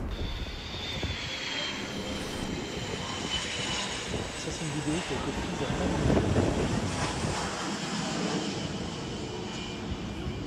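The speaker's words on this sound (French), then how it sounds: "l'avion est en train d'effectuer un passage, un premier passage au-dessus de la piste" A NASA DC-8 jet airliner makes a low pass over the runway, its engines roaring steadily and swelling toward the middle, with someone talking over the top.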